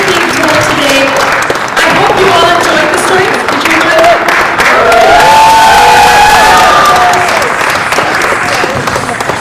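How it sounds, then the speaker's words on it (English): An arts-centre audience gives storytellers loud, sustained applause mixed with cheering, whoops and children's shouts, close and continuous throughout. "All of you deserve a huge round of applause"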